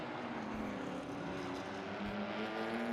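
A Porsche 996 race car drives hard around a racetrack, its engine a sustained, rising mechanical drone that is heard steadily throughout at moderate distance.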